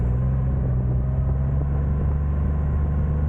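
A Triumph Rocket 3 Storm cruiser motorcycle running on the road, a steady deep engine rumble with wind noise, loud and continuous throughout with no talking.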